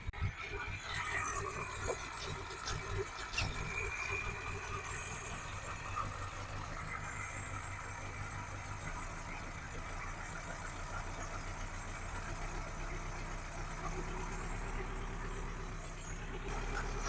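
A Volkswagen GTI engine swapped into a 1974 Passat idles a little low, giving a steady, rough mechanical rumble with some irregular ticking, heard close up without talk.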